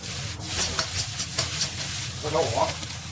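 Egg fried rice is stir-fried in a wok, with a steady sizzle and hiss under repeated scraping and tossing strokes that stay close and fairly loud throughout.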